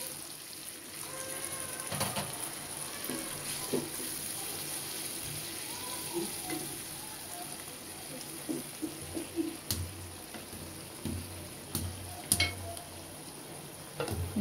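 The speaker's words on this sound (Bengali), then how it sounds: "এখন অল্প পানি দিয়ে দিব।" A little water goes into a pan of spiny gourd and prawns, then the mix is stirred with a soft simmering sizzle, scattered scraping clinks of a utensil against the pan, and quiet trickling, all fairly faint.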